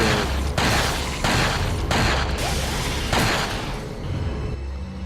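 Rapid volleys of gunfire from the video game Resident Evil 4 come in several loud, close bursts over a constant dense rumble of game sound, fading toward the end.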